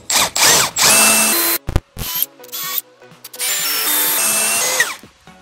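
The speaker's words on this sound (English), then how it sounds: "I marked my screws, and now I'm going to just pre-drill." A power drill whines in several loud bursts, spinning up and down as it pre-drills screw holes in an old pallet for a gate, with short pauses between runs.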